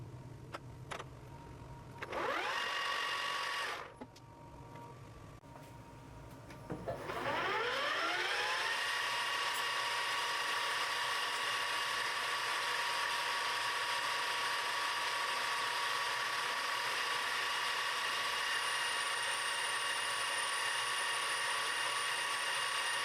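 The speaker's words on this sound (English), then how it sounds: "I spot and pre-drill the holes as usual." A Weiler LZ280 lathe drilling holes gives a steady mechanical whir with rising tonal whines as the spindle spins up twice, then a continuous loud machining drone with a faint high squeal near the end.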